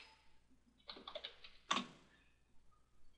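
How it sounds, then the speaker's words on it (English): Computer keyboard typing, a faint close burst of rapid key clicks lasting under a second, then a sharper single tap and a few soft scattered clicks in an otherwise quiet room. "I'll type out my scripts"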